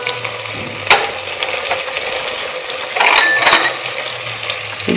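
Beans and carrots go into a pan of frying vegetables for a veg tehari, giving a light sizzle with a sharp clink of a utensil and a brief rattling tumble as they land.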